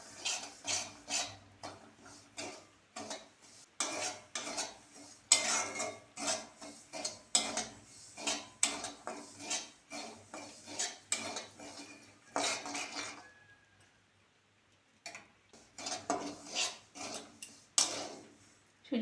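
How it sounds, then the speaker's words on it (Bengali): Semolina roasting over low heat in a pan, stirred steadily with a utensil: continuous rhythmic scraping and clinking of metal on the pan, close and fairly loud, with a brief pause midway. "সুজিটা ভালো করে নেড়ে চেড়ে নিয়েছি"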